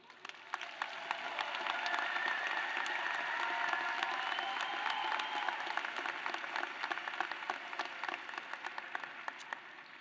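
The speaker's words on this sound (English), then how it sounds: "a big round of applause." A large graduation commencement audience gives a long round of applause, a dense wash of clapping that swells in the first couple of seconds and then holds steady, with faint cheering mixed in.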